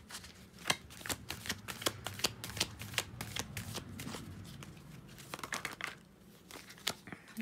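Tarot cards being shuffled by hand before a draw: a steady run of crisp riffling flicks and slaps, close and fairly quiet, with a brief pause near the end before a few final shuffles.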